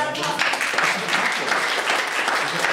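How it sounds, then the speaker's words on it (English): An audience at a panel event on reporting school budgets gives a steady round of applause, many hands clapping in a dense, even patter at moderate loudness, with a voice faintly heard over it. "Everyone, another round of applause."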